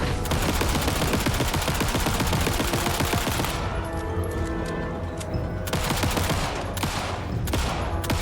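Sustained, loud gunfire shooting at coffee in the Alan Wake 2 video game, a dense continuous barrage over dramatic music with no pauses.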